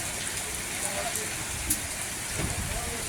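Heavy rain hisses steadily and evenly in a village in Gurdaspur, Punjab, with no break and no other sound standing out.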